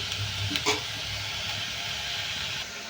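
Onions frying in a pan on a low gas flame, a steady close sizzle and hiss with a brief clink of stirring near the start, no voices.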